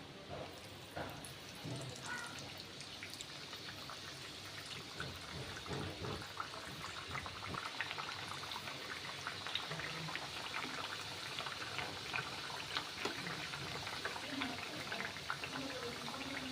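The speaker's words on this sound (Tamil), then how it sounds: "இப்போ ஃப்ரை பண்ணி எடுத்துக்கலாம்" Rice flour thattai discs sizzling in hot oil over a medium flame, a steady dense crackle and bubbling that runs throughout without any voice.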